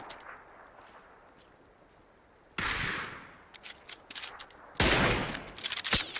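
Bursts of rapid gunfire crackle in PUBG on a winter Erangel map, two loud volleys with scattered single shots between them, over a low background hum.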